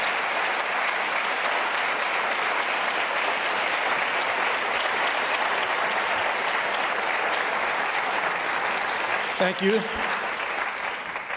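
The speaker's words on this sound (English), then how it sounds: "Let's give them applause, please." A crowd applauds steadily at the close of a televised debate between Virginia attorney general candidates, the clapping dense and continuous throughout while a voice briefly speaks near the end.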